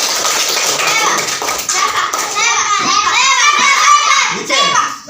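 Children in a classroom clap their hands together, the claps quick and close, mixed with lively kids' chatter and shouting.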